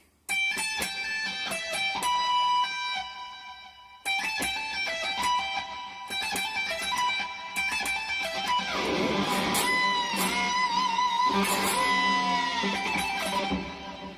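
An electric guitar plays a quick repeated lick from Crossroads, notes picked and pulled off in a looping pattern, loud and close with no talking.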